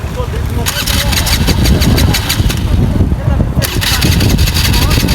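A scooter engine catches and settles into a steady mid-pitched run, loud and close, with people talking over it on a trip toward Gurje waterfall near Kathmandu.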